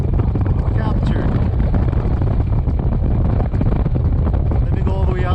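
Strong wind roaring and buffeting across a small DJI Ryze Tello drone in flight outdoors, a loud continuous rumble with gusty fluctuations throughout.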